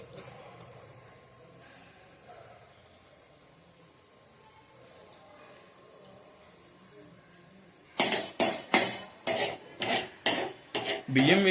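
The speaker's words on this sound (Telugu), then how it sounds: "బియ్యం వేసిన తర్వాత ఒకసారి అవన్నీ కలిపి ఉంచాలి" Rice being stirred into boiling milk in a pot for payasam, starting with a quiet bubbling simmer, then a burst of loud, close metallic scraping strokes of the spoon against the pot.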